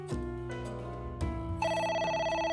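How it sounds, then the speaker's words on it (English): A phone ringing inside the video game AI: The Somnium Files, a steady electronic ring over layered synth music tones, clear and loud with no voices. "Phone's ringing again."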